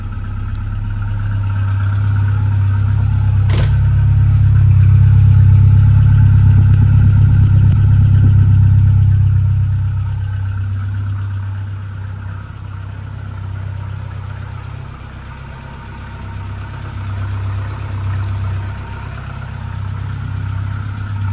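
A 1992 Saab 900i five-door with a 5-speed idles close by, giving a steady, loud low rumble that swells slightly mid-clip and then settles. One sharp click sounds early, and no voices are heard.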